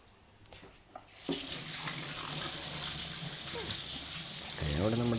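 Tap water runs steadily into a sink as a vegetable chopper is rinsed under it. The flow starts after a few faint knocks and continues as a close, even rush with splashing changes.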